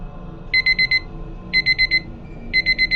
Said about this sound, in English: It was my phone, alerting me that the timer I had set reached 0.